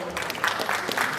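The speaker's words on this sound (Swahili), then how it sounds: "Simumpigie makofi." Scattered clapping rises from an audience at a digital literacy programme for arts and film creation in Nairobi, a short patchy burst with murmurs beneath.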